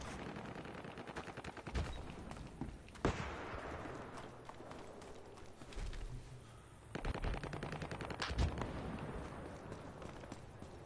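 Automatic gunfire rattles in Battlefield Hardline in repeated bursts over about eleven seconds. Sharper, louder shots punch through near the start and the end, against a fairly quiet, distant-sounding battle.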